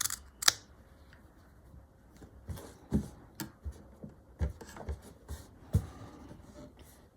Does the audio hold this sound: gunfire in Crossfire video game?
no